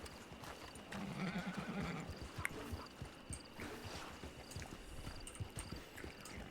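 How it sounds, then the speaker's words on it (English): Horses in the WildRP video game trot with quick, quiet clip-clop hoofbeats, and one gives a brief neigh early on. The sound stays faint and close throughout. "Let's send our horses off."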